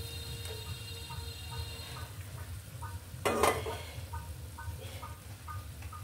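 Two beaten eggs poured into a hot pan for a Bengali egg bhaji, with a sudden hiss and splash midway over a steady low frying crackle and faint ticking, no voices.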